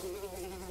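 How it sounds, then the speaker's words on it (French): Flies drone around a compost pile in a continuous, steady buzz, close to the microphone and fairly faint. "faut aimer les mouches, quoi."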